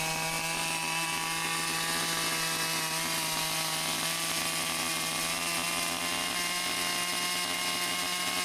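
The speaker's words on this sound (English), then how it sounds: "I need to go through each of these cutoffs and actually make little notches in all of them first." A loud, steady, high-revving buzz of a saw runs without a break while cutting notches into scrap wood cutoffs for a raised garden bed. The tone holds throughout with no pauses and no talk.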